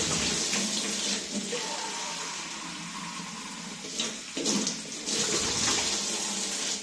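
A tap runs steadily while a milk bottle is rinsed under it, a close, full splashing rush that briefly changes and breaks around the middle before pouring on again.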